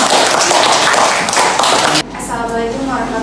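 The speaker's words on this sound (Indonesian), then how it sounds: "Ya, tepuk tangan ya buat teman-teman." An audience at a university teaching-certification presentation claps in a dense burst of applause that lasts about two seconds, then cuts off, leaving quieter room sound and a voice.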